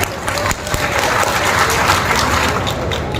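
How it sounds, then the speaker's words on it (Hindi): Audience applause at a poetry recital, a short burst of many hands clapping in a crowd, fairly loud and steady throughout. "इतनी कमजोर तालियों से तो काम नहीं चलता।"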